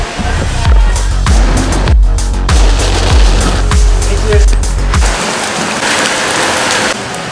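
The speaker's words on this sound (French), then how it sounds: "apparemment, il pleut et il y a un orage" Heavy rain pours steadily during a thunderstorm in Bangkok, heard from a taxi, with a dense broadband wash punctuated by a series of deep, regular low thuds like distant thunder rumbles.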